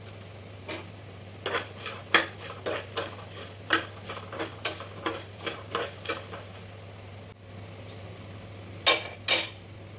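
A spoon scrapes and clinks against a pan as whole spices, cumin seeds among them, are stirred and roasted over medium flame, giving a quick irregular run of close metallic taps and scrapes, with a pause before a final couple of strokes.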